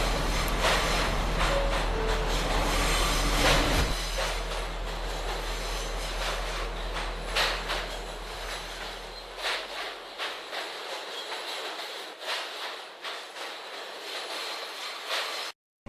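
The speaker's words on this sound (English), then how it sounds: "the train rumbles on" A train rumbles loudly along the tracks in a radio play, heavy low roar with rhythmic clacks, gradually fading as it moves on.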